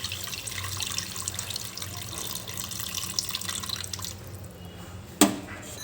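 Soaked tamarind juice trickles and splashes into a fish curry pan in a steady, soft pour, ending with a sharper clink near the end.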